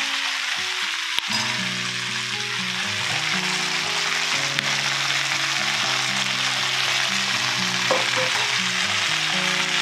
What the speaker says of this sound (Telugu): ఇట్లా వేసుకొని ఉల్లిపాయల్లోనే వేయించేసుకోవాలి